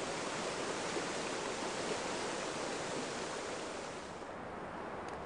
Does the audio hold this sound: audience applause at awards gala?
no